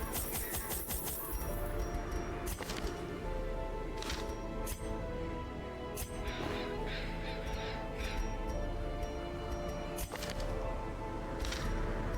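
Harsh crow caws ring out in Darkest Dungeon, repeating at intervals over a dense, steady bed of game music and ambience, fairly faint under the mix.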